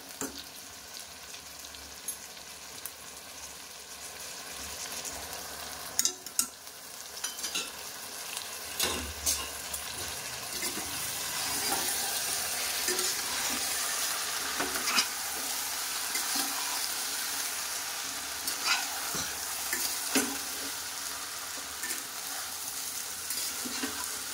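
Partly cooked rice being stirred in a pot with kewra and rose water, a steady scraping, sizzling churn that grows louder after the first few seconds, with occasional sharper knocks of the spoon and no voices.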